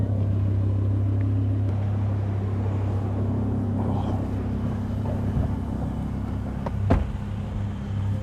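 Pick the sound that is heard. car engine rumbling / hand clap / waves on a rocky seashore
car engine rumbling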